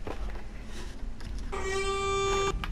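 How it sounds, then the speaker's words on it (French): A truck horn honks in a Roblox driving game, one steady loud blast lasting about a second near the end, after a stretch of low road noise. "Je le klaxonne pour la peine."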